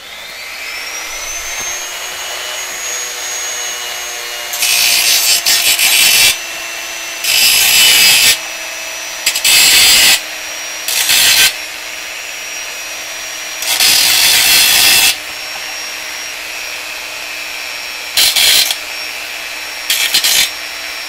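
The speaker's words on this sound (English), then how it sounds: "So this is the tool that's on the end of my Dremel right now, so I'm going to start with that." A Dremel rotary tool cleans an IF transformer from a Canadian General Electric KL-96 radio, whining up to speed and then rasping loudly in repeated bursts of a second or two, separated by the tool's steady hum.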